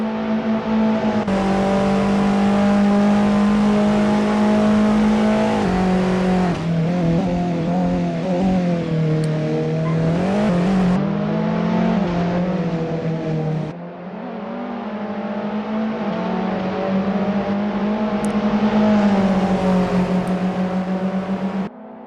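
Touring car engines from a racing video game howl loudly through a chicane, with sustained high revs that dip and climb again as the cars brake and accelerate between corners. No voices are heard.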